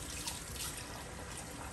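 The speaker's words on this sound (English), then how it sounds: "Rinse it off to get that soap water out of it." Running tap water splashes steadily as a CPAP filter is rinsed under the faucet, a continuous hiss with no talking.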